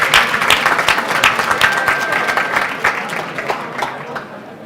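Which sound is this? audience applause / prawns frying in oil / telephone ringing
audience applause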